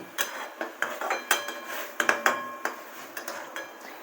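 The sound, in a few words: mixing fried eggs and onions in a kadai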